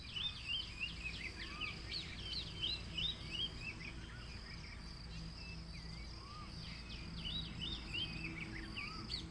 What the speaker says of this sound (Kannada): ಹಕ್ಕಿ ಸೌಂಡ್ ಯಾವ ಥರ ಬರ್ತದೆ ಕೇಳಿಸ್ಕೊರಿ ಒಂಚೂರು.